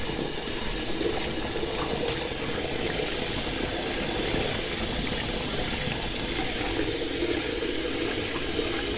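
Water runs steadily from a tap into a sink while lettuce is washed and soaked, a continuous close splashing rush with no voices.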